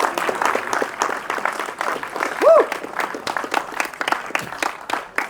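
Audience applause fills the hall at the premiere of the Gujarati film JEEV, a dense, even patter of many hands clapping from a crowd, with a short raised voice or cheer partway through.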